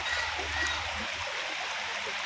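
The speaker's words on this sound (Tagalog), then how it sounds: "Ayan po ang tubig." River water at Eden runs in a steady, close rush with a constant hissing wash and no break in the flow.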